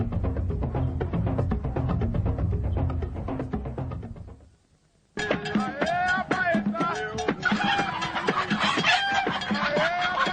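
Chickens cluck and squawk at a busy market, with dense overlapping bird calls close by after a brief pause in a stretch of low crowd noise.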